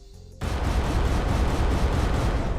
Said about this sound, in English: Rocket launcher wouldn't be as loud as a gun. It would be explosion part that's loud.